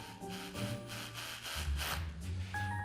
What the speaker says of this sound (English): Let's hope Matt's larger power tool does the trick